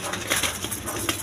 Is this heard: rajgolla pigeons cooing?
yes